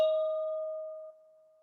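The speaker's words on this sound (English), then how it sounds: "you may be familiar with this instrument as a tubular bell" A single metallic bell strike rings out clearly, its bright tone sustaining and slowly decaying over a couple of seconds, alone with no talking.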